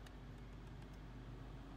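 An Infiniti car's newly replaced AC/heater blower motor runs with a steady, even whoosh of airflow and low hum, constant throughout with no pauses.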